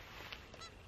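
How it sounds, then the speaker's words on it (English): Birds call faintly around a small boat out in hardwood wetlands, giving a brief honking note over a steady wash of background noise. "A lot of birds flying around."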